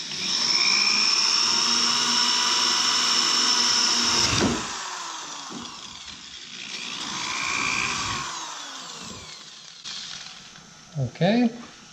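A power drill whines steadily at close range for several seconds while drilling into fiberglass on a VW Westfalia bus poptop, then stops, followed by a second shorter burst of drilling and a few clunks.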